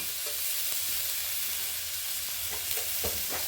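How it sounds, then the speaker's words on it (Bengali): Jackfruit seeds, potatoes and ivy gourd fry with chili powder in a pan, a constant loud sizzle broken by a few soft scrapes and clinks of stirring. "এগুলোকে এবারে একটু ভেজে নিতে হবে। এর সাথে সামান্য পরিমাণে লঙ্কার গুঁড়ো দেওয়া হচ্ছে"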